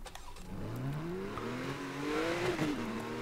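A game car drifting in Need for Speed Most Wanted (2012), its engine droning and rising in pitch under a steady roar, with a faint tire squeal near the end, loud and continuous.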